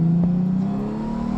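A 2024 Honda Goldwing Tour motorcycle accelerating in manual mode, its engine note rising steadily in pitch as it pulls hard, loud and close.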